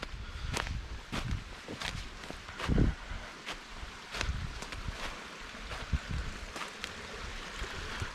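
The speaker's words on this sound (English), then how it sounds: "this shows you how much water is coming off the top of this hill here" Water running down a hillside stream outdoors, a steady broadband wash heard close, with intermittent footstep-like thuds and brushing as someone climbs beside it.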